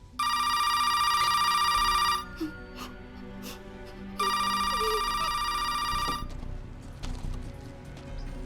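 A telephone rings in two long electronic bursts, loud and close, separated by a short pause, with faint background noise during a tense police standoff outside a house.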